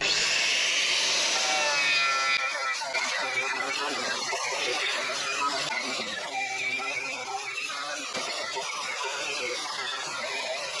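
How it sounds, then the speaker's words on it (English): An angle grinder fitted with a wire wheel scrubs flaky underbody coating off a Mk1 Caddy, making a continuous, loud abrasive whine and scratching that varies as the wheel moves, close up, with a voice faintly under it. "So I've got my wire wheel on the grinder, I'm all PPE'd up, so let's go."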